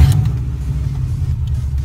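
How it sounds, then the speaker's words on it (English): Engine of a 2000 Subaru Impreza with a faulty idle air control valve catches and settles into a loud, steady low rumble, close by with a brief burst at the start. "let me give it a quick start so I can show you. So when I start the car"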